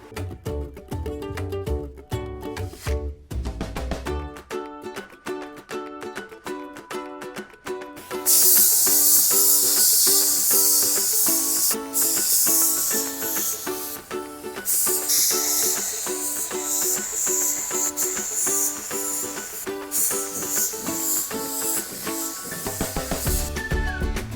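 Steady spray-gun hiss of primer being applied to a third-generation Toyota Tacoma body, a loud continuous spray running for long stretches with brief pauses, no talking.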